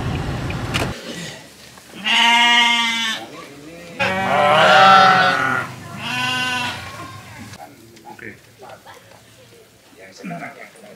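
Goats gathered for distribution by a mosque bleat in three long, loud, wavering calls close by, one after another. Quieter rustling and faint background voices fill the spaces between them.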